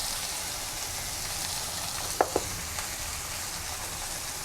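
Okra fries in a pan as dry spices go in, a steady close sizzle throughout broken by a couple of brief clinks of a utensil.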